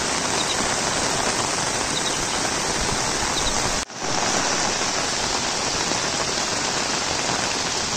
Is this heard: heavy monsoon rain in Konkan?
yes